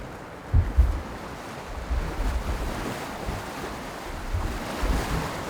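Aboard a Seawind 1600 catamaran sailing in gusty trade winds, wind rushes across the microphone while waves wash and slap against the hulls in irregular surges, loud and close throughout, with no voices.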